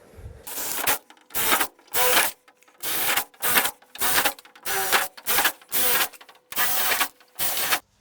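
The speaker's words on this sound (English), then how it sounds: "Let's start drilling" A power drill whirs in about a dozen short, loud bursts while drilling into a race car spoiler, each lasting under a second and separated by brief pauses, with no talking.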